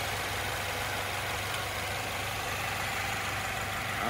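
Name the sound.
2014 Subaru Outback engine idling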